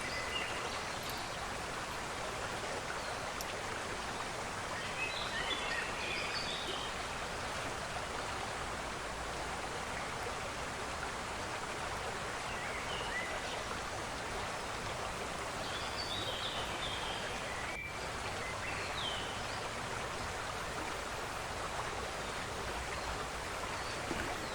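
River on the west coast of New Caledonia flows in a steady, broad watery rush, a constant even wash of moving water with faint higher trickles and no talking.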